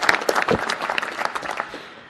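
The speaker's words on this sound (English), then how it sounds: "Give a round of applause to the Department of Energy." An audience at a Space Council meeting claps for the Department of Energy, a lively burst of applause that thins out and fades toward the end.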